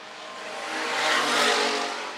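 Hobby stock race cars roaring past on a dirt raceway, a loud, continuous engine drone swelling to a peak and easing off as the pack passes, heard from trackside without any voices.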